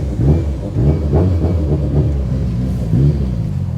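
A Mitsubishi Lancer Evo 8 being driven, heard from inside as a loud, steady low engine rumble with slight surges of throttle and road noise, no talking.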